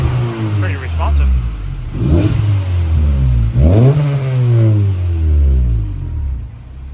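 A 1990 Honda CRX with a B18C5 engine revs close by, its pitch climbing and falling in two strong sweeps over a steady idle, while people talk nearby.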